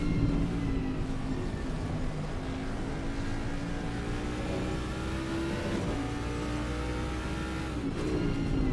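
Race car engines at Monza in a sim racing game, a loud continuous whine of several cars at high revs with pitch slowly rising and shifting, no voices.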